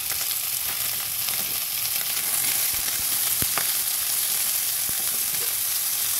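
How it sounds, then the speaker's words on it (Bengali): Vegetables frying in a pan over a high gas flame give a dense, even sizzle that holds steady throughout, with a few faint clicks and stirs, close up and without talk. "গ্যাসের ফ্লেমটা হাই রেখেছি, কারণ এগুলো ভাজতে হবে ভালো করে"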